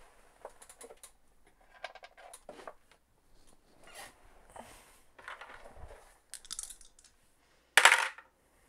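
Tabletop dice clatter during a Dungeons & Dragons session, scattered small clicks and rattles across a table, ending in a louder burst of tumbling dice near the close.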